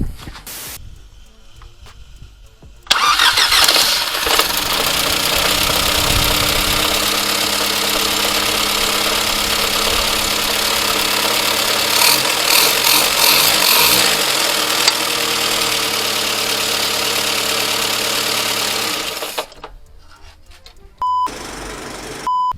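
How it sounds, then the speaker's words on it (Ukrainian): A 1994 Skoda Favorit engine cranks and catches, then idles steadily and loudly for a long stretch with a slight rough knock before cutting off, followed by faint beeps. "як бачимо, двигун то працює добре"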